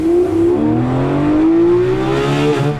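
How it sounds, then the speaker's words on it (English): A car engine revs hard through a sequential gearbox, its pitch sweeping steadily upward and holding against the rev limiter, loud and close with no talk. "hit the rev limiter in a big way"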